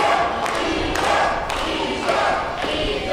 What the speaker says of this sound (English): Crowd soundly behind the challenger now.